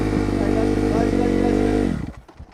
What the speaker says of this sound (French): j'embraye. Je passe la première.